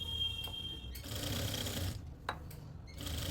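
A sewing machine stitching the neckline of a lined suit: a steady mechanical whir of running stitches at close range, broken by brief stops and small clicks, with no voices.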